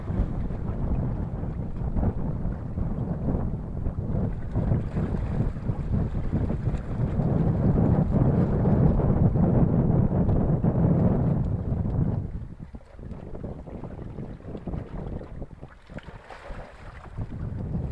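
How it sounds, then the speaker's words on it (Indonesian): Fairly strong sea waves in the late afternoon, heard at a seaside tomb, roar as a continuous broadband wash with gusty wind on the microphone, easing briefly near the end before building again. "Suara ombak lumayan agak kencang karena ini menjelang sore ya"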